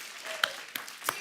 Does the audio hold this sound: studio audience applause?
yes